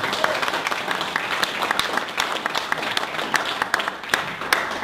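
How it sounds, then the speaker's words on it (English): A warm round of audience applause welcoming a speaker at a lecture event, steady many-handed clapping with sharp individual claps standing out throughout, filling the room at close range. "So please give David Martel a warm round of applause."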